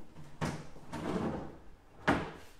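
Big drawers of a dorm room dresser in a university residence hall sliding and thudding, three distinct knocks spaced apart over quiet room tone.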